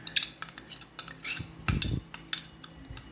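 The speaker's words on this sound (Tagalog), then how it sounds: "hahaluin lamang po nating mabuti ang ating sauce" A utensil stirs sweet chili sauce with vinegar and sugar in a pan for stir-fried chicken with mushroom, making repeated light metallic scrapes and clinks, close and moderately loud, with one fuller scrape midway.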